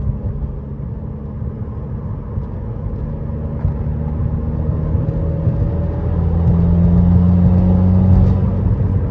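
Subaru WRX with stage 2 modifications pulling in fourth gear, a steady low engine drone with harmonic tones that rise and strengthen toward the end, heard from inside the car with no talk.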